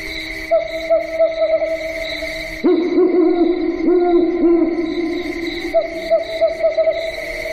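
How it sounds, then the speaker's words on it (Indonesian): An owl hoots repeatedly among rain trees at night, its hoots clear and fairly close over a steady background of insect chirring. "Suara burung hantu di antara pohon-pohon trembesi terdengar menyeramkan."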